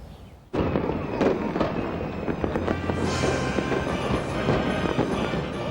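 Fireworks at the Tall Ships send-off burst suddenly and then keep up a dense crackling barrage, with loud sharp pops and booms layered over a continuous roar.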